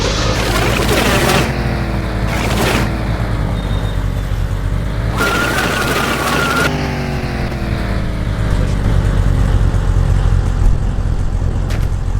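A car rolls forward in the driving game The Long Drive, its engine droning steadily and loudly with broadband noise throughout, surging and shifting in a few bursts.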